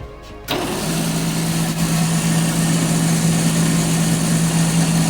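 An old gas pump's electric motor, freshly lubricated and restored, runs steadily with a constant hum that starts abruptly after a brief quiet moment and holds at an even level throughout.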